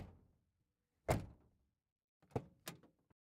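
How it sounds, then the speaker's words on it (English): Car door shutting sound effects previewed while editing in DaVinci Resolve: one solid slam followed by a pair of quick thunks, loud and close with no talk. "Better car door sounds."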